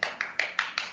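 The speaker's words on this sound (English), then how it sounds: "Let's clap for her." Kindergarten children at a graduation day ceremony clap together in unison, five sharp, evenly spaced claps in quick succession.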